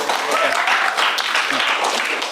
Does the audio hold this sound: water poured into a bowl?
no